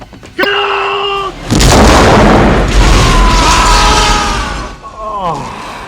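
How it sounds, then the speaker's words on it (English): Explosion of the starship Enterprise in the 1984 film Star Trek III: The Search for Spock, a loud sustained boom and rumbling roar lasting several seconds after a brief shout, fading with tonal swirling effects at the end. "What an explosion"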